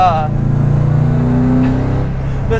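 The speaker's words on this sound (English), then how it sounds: "Subarus make good sounds, but with this Tomei Extreme, oh, yeah, it sounds good." A 2001 Subaru Impreza L coupe with a WRX engine swap and Tomei Extreme aftermarket exhaust rumbles steadily with a deep, throaty exhaust note, loud and close, with no voices.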